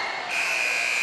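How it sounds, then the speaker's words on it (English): Game buzzer at a 2015 high school basketball game sounding the end of the half: a loud, steady electronic tone that starts shortly in and holds to the end over gym crowd noise. "And there's the buzzer. And that is the end of the half."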